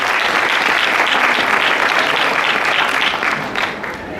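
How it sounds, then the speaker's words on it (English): An audience at a Nigerian Independence Day celebration in San Antonio applauds the event organizers, a loud, close, sustained clapping that holds for several seconds, then tapers slightly near the end. "Let's please give them a big round of applause."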